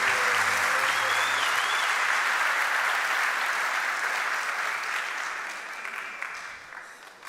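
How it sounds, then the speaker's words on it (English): Graduation ceremony audience applauding the Commander, a loud, full roomful of clapping that holds steady and then fades out toward the end. "Y'all give Commander another round of applause"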